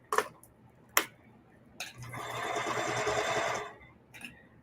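Old sewing machine stitching through upcycled jeans with elastic: a close, steady mechanical whirr of about a second and a half, framed by a few sharp clicks before and after.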